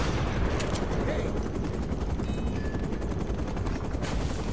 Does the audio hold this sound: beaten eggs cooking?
no